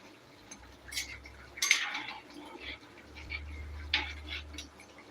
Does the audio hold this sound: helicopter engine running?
no